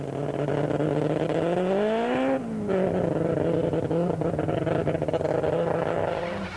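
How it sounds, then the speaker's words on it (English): Rough-running dual-fuel Volkswagen Polo Player rally car at a 2001 event, its engine note rising and falling in uneven, laboring revs, with one sharp drop and recovery, loud and close throughout. "the Sassel dual-fuel Volkswagen Polo Player of Corbus Russ and Brendan Noonan sounds rough"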